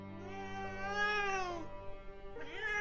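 A voice imitates a cat with long, wavering, whiny meows, one drawn out and falling in pitch, then a second starting after a short pause, close and fairly loud with a constant low hum beneath.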